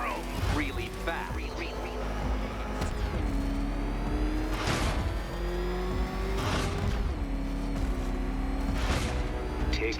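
Batmobile engine in the video game Batman: Arkham Knight revving and driving, a loud steady motor drone rising through several sharp rev surges with a bright whine, continuous throughout.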